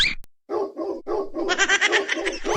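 Cartoon dog barking in a Filipino summer animation, a quick series of short yaps that builds into a denser run of excited barks, close and fairly loud, with no talk over it.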